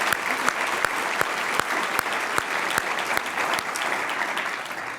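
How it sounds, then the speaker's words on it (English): A university convocation audience claps steadily, a dense wash of applause with a few sharp, distinct claps standing out near the listener, sustained for several seconds without talk over it. "That deserves a round of applause."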